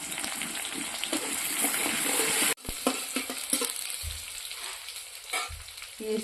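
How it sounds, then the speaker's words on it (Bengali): Chopped onions and a bay leaf fry in hot oil in a pan for a curry, a steady crackling sizzle that briefly cuts out and then settles into softer frying with occasional stirring. "পেঁয়াজটা ভাজা হয়ে গেছে"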